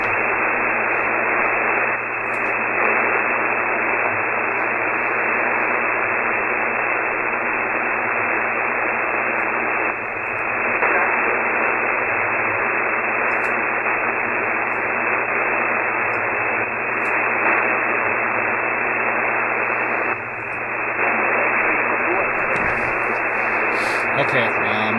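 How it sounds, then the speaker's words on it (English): Radio receiver static heard through an inverted L antenna: a loud, steady hiss of noise that runs throughout, with faint dips and swells. No voices or signals come through clearly. "Let me switch over to the inverted L."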